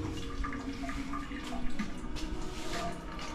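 Water from a tap inside a house, a fairly faint, continuous trickling splash that stays steady from start to finish, with no one talking.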